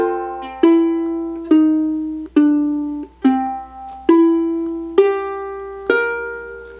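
Solo ukulele playing a walking bass line section of a tune, about eight plucked notes stepping along at a steady pace, each ringing and decaying before the next, clear and close with no voice.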